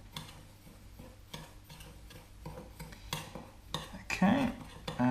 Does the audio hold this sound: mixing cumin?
yes